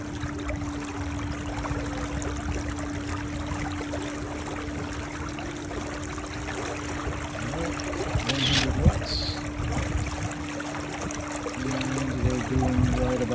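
Inflatable Takacat 260LX dinghy pushed slowly through water by an electric outboard at about two knots, a faint steady motor whine over soft water wash, with a brief splash near the end.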